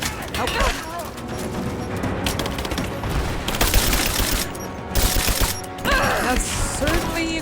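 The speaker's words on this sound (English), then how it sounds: "That's certainly a grenade." Grenades and gunfire go off in Rise of the Tomb Raider, with rattling shots and several loud blasts that break out near the middle and again toward the end. A voice is heard at times through the action.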